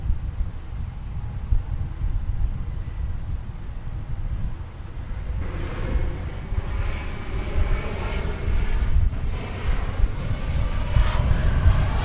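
A flight from Torreon rolls at DFW Airport, its jet engine a broad, steady roar heard from a distance and rising slightly toward the end, with wind buffeting the microphone.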